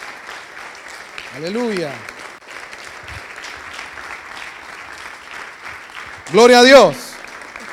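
A church congregation applauds through a worship service, steady dense clapping throughout, with two loud shouted praises from a single voice rising over it.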